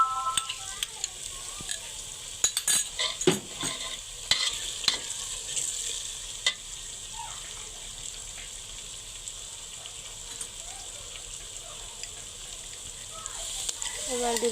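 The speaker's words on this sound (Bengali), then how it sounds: "আবার একটু নেড়ে নিব। মশলাটা ভালো করে কষিয়ে নিতে হবে।" Beef biryani masala being stirred and fried in a pan, with steady sizzling and scraping strokes, some sharp clatters early on, and occasional soft voices in the background.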